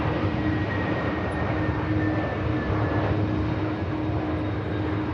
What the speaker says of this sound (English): And EasyJet just touching back. Touching down, sorry.